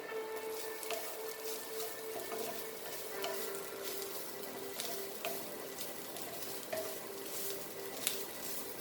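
Chicken xacuti masala roasts in a pan, giving a steady low sizzle with regular scraping strokes of a spoon against the metal. No one speaks.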